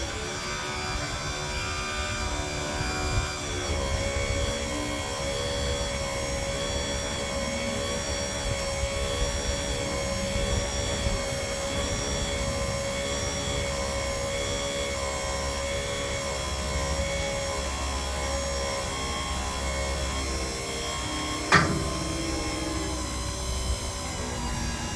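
A dump truck engine idles steadily with a whining, humming tarp system motor running alongside, heard close and continuous, with one brief sharp click near the end.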